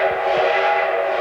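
Durango-Silverton steam train whistle, a single loud, steady sustained blast holding one tone throughout, heard alone with no talking.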